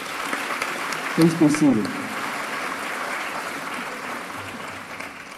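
Sustained applause at a university commencement ceremony, a steady even patter of clapping from a large audience, briefly under a speaking voice near the start.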